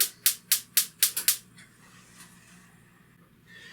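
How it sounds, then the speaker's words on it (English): A gas stove burner clicks repeatedly, about seven sharp igniter snaps in quick succession, then a faint hiss of flame follows in a quiet kitchen. "So I'm going to put it on the lower flame and let's fire that up."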